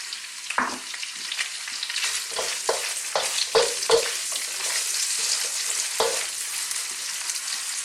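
Sliced white onion frying in a pan with fatty cooked pork belly, a constant close sizzle punctuated by a series of sharp scraping stirs, with no talk.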